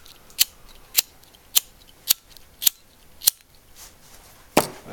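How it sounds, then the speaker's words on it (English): A pocket lighter is flicked about six times in an even rhythm, with sharp, close, crisp clicks, followed by a longer rasping flick at the end, with no voices. "Lighter."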